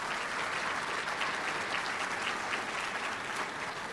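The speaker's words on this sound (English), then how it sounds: "So a huge round of applause because you wouldn't be here without all of them." An audience at a spring university graduation ceremony gives a big round of applause, a dense, even clapping that holds steady from start to finish, somewhat distant and alone.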